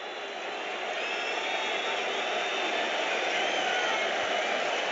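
A football crowd applauds the travelling away support at a Premier League match between Newcastle and Arsenal, a dense, steady wash of clapping that swells gently and holds for several seconds.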